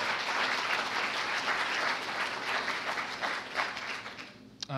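Audience applause at an evening entrepreneur competition event, the Carroll Biz Challenge 2013: a dense, steady wash of clapping from a sizable crowd that holds for several seconds, then thins out and stops abruptly near the end.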